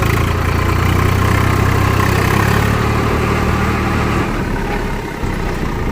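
A car engine runs steadily in third gear, a loud, continuous close-up drone with a slight dip in pitch near the end, and no voices.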